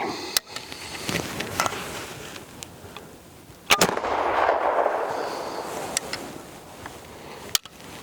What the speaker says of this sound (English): So anyway, last shot of the day.